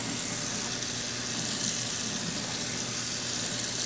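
Running water pours steadily into a pot of hot pasta water as a continuous hiss and rush, close and even for a few seconds without any talking.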